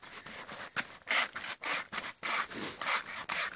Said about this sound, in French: Scie commando, j'imagine utilisée par l'armée, mais d'accord, c'est souple.